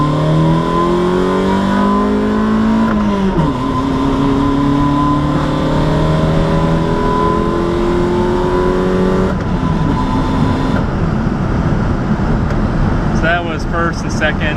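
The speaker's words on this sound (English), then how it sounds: "here's a good first gear pull." Toyota AE86 drift build accelerating hard through first and second gear, engine note climbing in pitch, dropping at the shift, then rising again, loud and close from inside the car.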